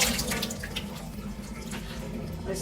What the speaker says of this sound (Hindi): पहले फूड को धो लेते हैं, इसको भी धो लेते हैं